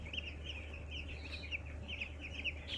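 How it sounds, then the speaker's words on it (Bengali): A flock of broiler chickens drinking water on a farm clucks and peeps continuously at moderate distance over a low steady hum, many overlapping soft calls. "দেখেন মুরগিগুলো কীভাবে পানি খাচ্ছে"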